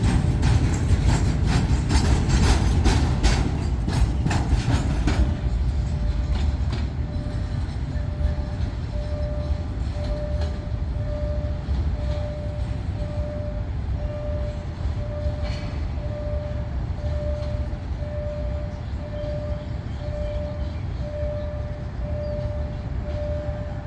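A Thai State Railway train rolls past the Rama VI crossing in Thailand, with loud, steady rumbling and clatter early on that eases into a sustained drone and a long horn-like tone as it moves along.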